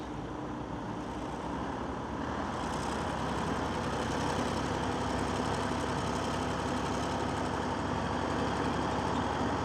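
Tractors strain to pull stuck farm machinery out of mud on a cable, their diesel engines roaring in a steady, loud drone that builds slightly after a couple of seconds, with no voices.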